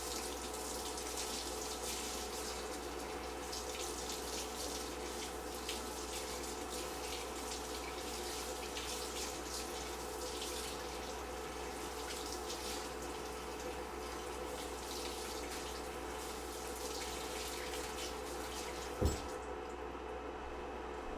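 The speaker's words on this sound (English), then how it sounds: "I'm gonna run this under some hot water" Hot tap water runs steadily over chopped leek for about twenty seconds, a continuous close spray with a low hum underneath and one brief knock near the end.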